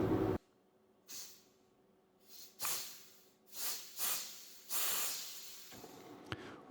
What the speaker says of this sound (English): I'll just inject some compressed air into the appropriate port